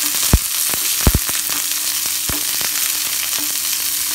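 Shallots, dried red chillies and curry leaves fry in hot oil for a drumstick flower poriyal, giving a steady close sizzle broken by a few sharp clicks of the spoon against the pan.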